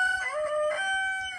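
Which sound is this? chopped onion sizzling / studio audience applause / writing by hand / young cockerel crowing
young cockerel crowing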